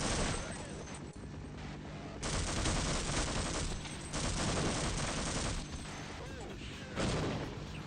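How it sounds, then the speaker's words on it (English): Repeated grenade blasts and heavy gunfire burst through a video game battle, loud bursts around two, four and seven seconds over a constant roar of combat noise. "That was a grenade. That's a couple of grenades."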